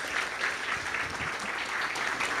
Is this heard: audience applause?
yes